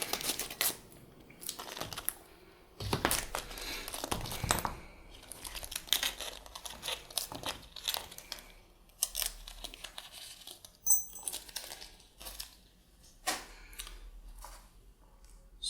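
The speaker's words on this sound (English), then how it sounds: "let's go ahead and cut this bag open" A plastic bag of Umarex/VFC H&K VP9 steel replacement parts is cut open and handled, giving close, quiet crinkling, rustling and snipping in irregular bursts throughout.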